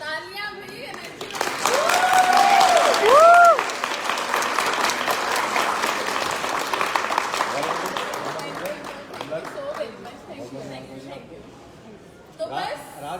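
Applause from an audience at a stage event swells and holds as a broad wash of clapping, with a voice speaking over the start and talk returning as the clapping fades.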